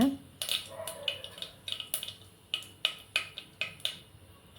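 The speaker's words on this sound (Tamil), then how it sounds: "கடுகு நல்லா பொரிஞ்சிட்டும்" Mustard seeds pop in hot oil for coriander rice: a sparse, irregular run of sharp, fairly faint clicks, about a dozen over a few seconds, with quiet gaps between them.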